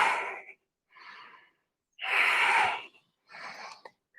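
Four separate audible breaths with short silences between them, exhaling and inhaling in rhythm during a low-impact yoga leg lift, close and clear, with no talking.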